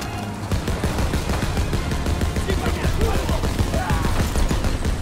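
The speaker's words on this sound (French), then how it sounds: "Je me mets à la mitrailleuse" A jeep-mounted machine gun fires in Call of Duty WW2 during Operation Cobra, laying down rapid, continuous bursts that carry through the whole stretch. A player speaks over the shooting.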